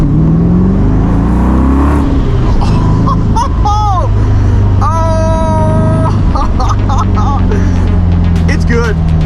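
A Rinspeed 969 sports car with a six-speed manual is driven hard, its engine roaring loud and close as it climbs through the revs, with sharp rising whines and gear changes, and a brief burble between pulls.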